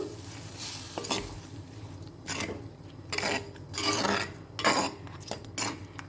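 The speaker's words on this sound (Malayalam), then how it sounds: "പുളി വെള്ളവും ശർക്കര ശർക്കരയും കൂടിയിട്ടുള്ള മിക്സ് ഒഴിച്ചു കൊടുത്തു" Tamarind water and jaggery mix goes into a hot pan for a bitter-free lime curry, giving bursts of sizzling with clinks and scrapes of a utensil against the pan, close up and with no talking.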